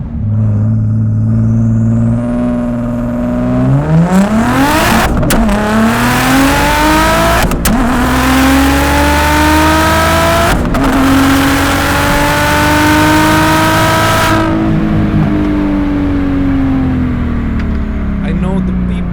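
A V6 biturbo Audi S4 B5 accelerates hard in first gear, engine note climbing steadily and loudly, with sharp gear-change breaks. Later the revs drop and ease off.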